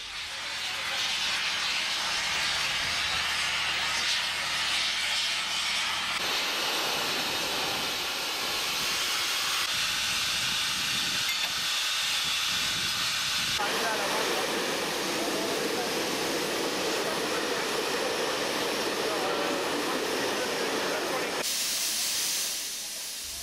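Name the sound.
steam locomotive 403 leaving the depot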